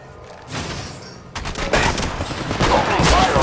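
Rapid bursts of automatic gunfire from the mobile shooter game Apex Legends Mobile, loud and close, with dense overlapping shots that intensify after the first second.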